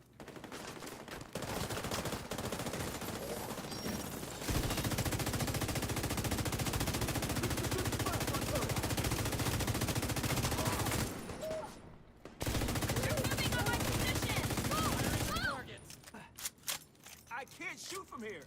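Sustained automatic gunfire in a PvE shooter video game, loud and continuous for long stretches, broken by a short pause and then tailing into scattered noises, with speech mixed in.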